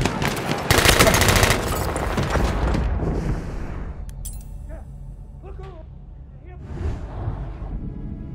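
Enemy machine-gun fire in the Battlefield 1 multiplayer game rattles loudly in a dense burst that tapers into sparse distant shots, with voices calling out over it.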